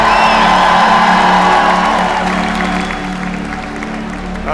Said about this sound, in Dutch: Nou, dan hoor je een applaus.